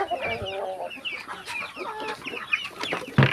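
Chickens and ducks cluck and squawk close by in a busy farmyard chorus, with a sudden louder thump near the end.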